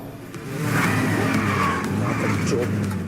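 A truck speeds off in a tense TV drama scene, its engine roaring and tires skidding in one sustained, loud burst of motion.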